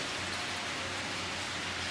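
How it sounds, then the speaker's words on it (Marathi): Heavy rain falling outside during cooking, a dense, steady broadband hiss that stays constant throughout, moderately loud and with no voices. "बाहेर पाऊस चालू आहे तर तुम्हाला पावसाचा आवाज येत असेल बाहेर जोरदार पाऊस सुरू आहे"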